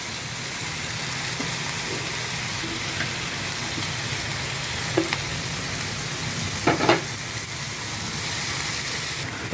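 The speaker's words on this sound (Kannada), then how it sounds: "ಈಗ ಈ ಸ್ಮ್ಯಾಶ್ ಮಾಡ್ಕೊಂಡಿರೋ 4 ಆಲೂಗಡ್ಡೆನ ಮಿಕ್ಸ್ ಮಾಡೋಣ" Four smashed potatoes with curry leaves are stirred in a sizzling pan: a continuous close frying hiss broken by a few scraping knocks of the spoon against the pan.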